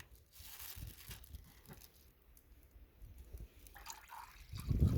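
Homemade juice pours into a small plastic bag, a faint trickling splash with soft crinkling of plastic, quiet and close, growing louder at the end.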